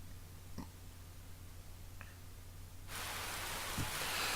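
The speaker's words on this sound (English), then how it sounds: "A gentle rain begins to fall." Gentle rain in the video game Fate/EXTRA, starting as a faint hush with a few soft knocks, then swelling abruptly into a louder, steady wash of rainfall.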